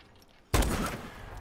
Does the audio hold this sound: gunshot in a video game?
yes